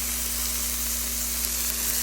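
Pancit canton ingredients sizzle and fry in a pan, a steady close crackling hiss with a constant low electrical hum underneath and no talk.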